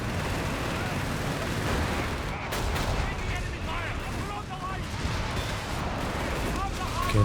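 Obice howitzer artillery firing amid a dense battle in the video game Company of Heroes 3, with booms and gunfire blending into a continuous, loud wash of combat noise.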